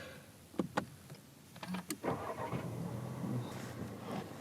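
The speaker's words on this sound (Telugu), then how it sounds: "సో లేట్ చేయకుండా కార్ అయితే స్టార్ట్ చేసేద్దాం." A Skoda Kushaq Monte Carlo 1.5 TSI EVO is started with the push button: a couple of sharp clicks and a brief starter burst, then the engine settling into a quiet, steady idle heard from inside the cabin.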